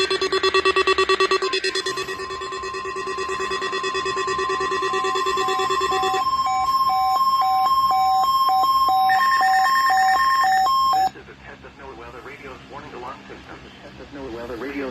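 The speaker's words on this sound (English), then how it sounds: "The attention signals you just heard will automatically activate special receivers." Emergency Alert System attention signal on a NOAA weather radio broadcast: loud, steady two-tone electronic alarm that runs for about eleven seconds, then stops abruptly and leaves quieter broadcast noise.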